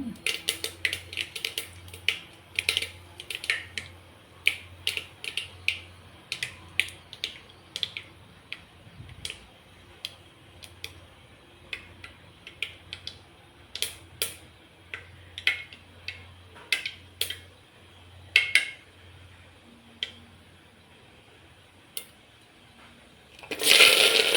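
Mustard seeds crackle and pop in hot oil for a Tamil tamarind curry, a dense run of sharp ticking bursts that thins out over time, with a low steady hum underneath.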